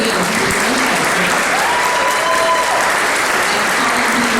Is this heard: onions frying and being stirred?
no